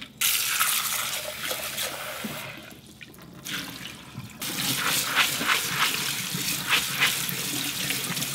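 Water pours and splashes steadily as soaked dried mung beans are strained in a kitchen, with a short quieter pause midway before the running flow resumes, close and fairly loud.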